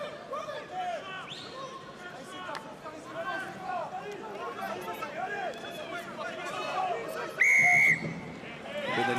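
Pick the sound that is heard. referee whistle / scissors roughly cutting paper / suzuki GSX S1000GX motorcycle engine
referee whistle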